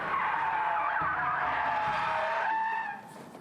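Tires of a BMW 5 Series squealing and skidding through an abrupt lane change at 100 km/h on a test track, a loud sustained screech lasting about three seconds that fades toward the end.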